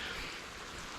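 Rain falls on a waterproof backpacking shelter in a steady, close, even hiss of drops with no clear gaps.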